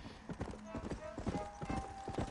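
Horse hooves clip-clop steadily in a video game, a quick rhythmic patter of close hoof strikes running throughout while someone talks over them.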